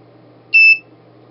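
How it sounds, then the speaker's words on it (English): A single electronic alarm beep from a PIR infrared motion detector circuit, two bright tones at once, sounds briefly for about a quarter second over a low steady hum. "We're going to get 10 alarm beeps, just enough to let someone know that you've breached"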